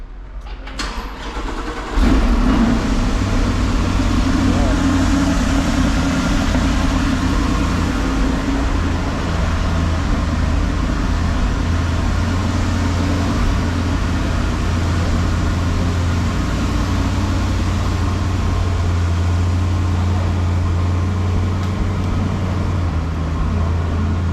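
A big-block 8.1-litre C8 Corvette fires up and settles into a steady, fairly subdued idle with a deep low rumble that holds evenly for over twenty seconds, close by and without talk.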